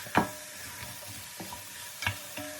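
Short rib meat being stirred with spices in a pot, a few soft scraping stirs with a faint sizzle, quiet and close.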